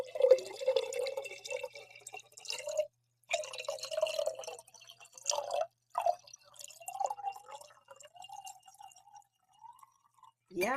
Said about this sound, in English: I don't know where your mind's at, but that's water